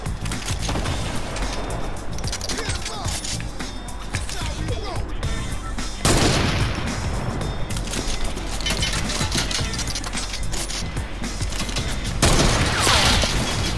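Gunfire in Fortnite rattles steadily under an ongoing exchange of talk, with a quick run of loud shots and sharper bursts breaking in twice.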